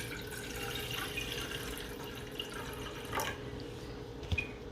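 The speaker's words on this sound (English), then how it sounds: "So now we're going to fill the pot with water." Tap water runs into a pot on a kitchen stove for morning tea, heard as a soft, steady trickle with faint drips and small clinks. The sound stays quiet and close, with no voices.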